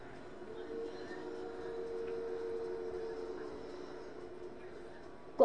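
A moving train in the Fortnite video game rumbles as a steady, continuous drone at moderate level, with a brief sharp knock at the very end.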